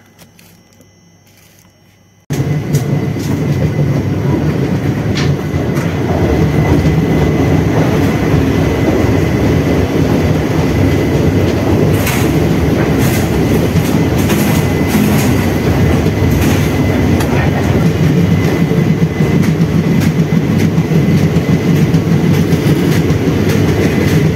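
A passenger train runs on rails near Haridwar station, bound for Rishikesh, a loud continuous rumble with rhythmic wheel clatter heard from inside the carriage, starting abruptly after a quiet moment.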